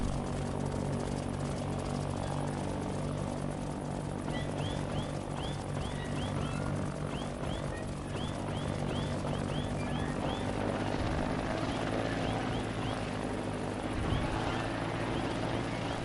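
Quadcopter propellers in the building game Trailmakers make a constant droning, buzzing rotor hum that holds steady for the whole stretch, with light chirping tones over it in the middle.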